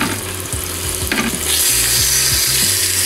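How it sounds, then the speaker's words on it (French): Rabbit pieces sizzle loudly in hot olive oil in a pot, a constant crackling hiss that swells as more pieces go in, with a low hum underneath. "Allez, je dépose le lapin dans la casserole."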